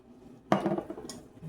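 Peanut butter fudge mixture stirred in a pot just after vanilla is added, heard as a brief run of metallic scraping and clinking from the spoon against the pot, fairly quiet, with no talk.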